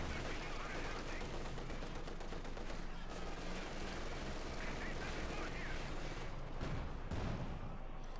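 Machine gun fire on a Company of Heroes 2 battlefield, dense continuous rattling bursts mixed with other gunfire and distant booms, loud and unbroken from start to finish.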